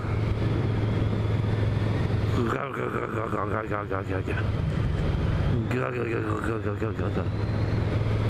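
A Yamaha V Max muscle bike's engine roars steadily and loudly throughout. Excited voices talk over it.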